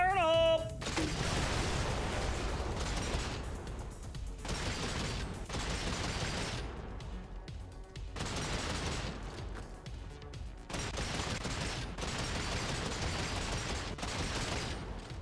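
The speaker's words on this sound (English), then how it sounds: "we've got ourselves a machine gun and a thumper. Fire primary and secondary." A machine gun and a heavy thumper cannon on a power suit in the Brigador video game fire in dense, loud bursts for the whole stretch, with short gaps between volleys and a brief tonal chime at the start.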